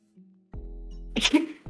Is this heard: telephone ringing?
no